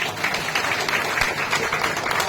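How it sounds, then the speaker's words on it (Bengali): Loud applause for Manish Gupta at a ward victory celebration, a dense, continuous crowd clapping that holds steady and close for the whole stretch. "জোরে হাততালি"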